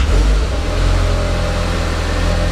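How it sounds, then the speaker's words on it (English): Audi TT engine running just after starting, a low steady idle rumble with a slight rev at the start, close and continuous, no talk. "Let's give the car a quick start."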